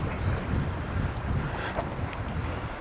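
Strong wind buffeting the microphone on a UK coast during lure fishing: a constant low roar and rumble with faint hints of water behind it, loud and unbroken throughout, no voices.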